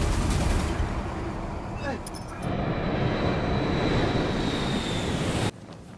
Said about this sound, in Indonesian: pesawat Jisun bergoyang dahsyat, karena menabrak awan